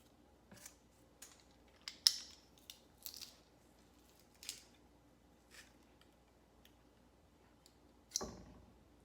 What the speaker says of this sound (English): we're going to mince up our 3 garlic cloves and put that right in here as well